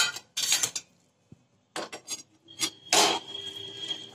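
A spoon scrapes and clanks in a pan while stirring thick rice flour dough mixed with chopped coriander, in several separate bursts with short quiet gaps.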